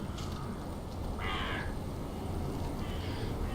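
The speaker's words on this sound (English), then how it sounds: "Crows and crow people." Crows caw in the video game Secret World Legends: a harsh caw stands out, followed by a fainter one, over a steady bed of game ambience and background noise.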